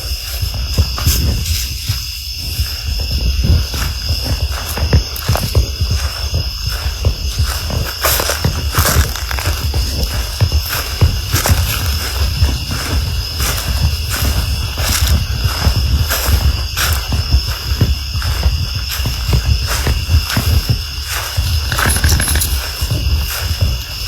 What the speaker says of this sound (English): The cicadas aren't too bad either.